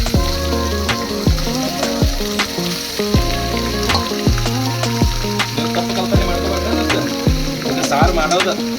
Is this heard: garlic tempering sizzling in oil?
yes